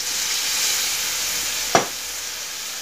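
Shrimp and holy basil stir-fried in a pan with seasoning, sugar, ground pepper and a splash of water, giving a steady hiss of sizzling with one brief scrape of stirring midway.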